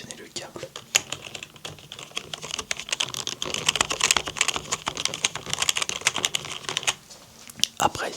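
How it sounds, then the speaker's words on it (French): Fingers type rapidly on a G-Lab computer keyboard, dense close-up key clicks in uneven bursts with short pauses, recorded in a quiet room with a faint voice in the background. "les claviers que j'utilise pour mes vidéos ASMR, comme par exemple ce G-Lab"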